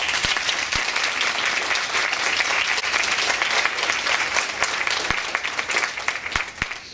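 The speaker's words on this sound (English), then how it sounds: "let's give him a round of applause" Sustained audience applause at a live gathering, a dense, loud wash of many hands clapping continuously with a few sharper individual claps standing out, tapering slightly near the end.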